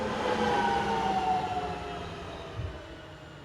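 Locomotive 44325 pulls a passenger train into the small station at Rheineck, Germany, with a loud close rumble and faint tonal whine that eases off as it slows.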